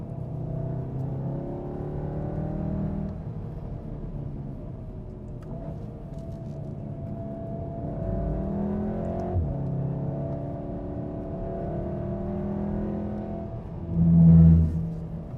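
A 2015 Volkswagen Golf R drives on a track, its engine giving a steady, moderately quiet drone with rises and falls in pitch as it shifts, plus a brief louder thump near the end.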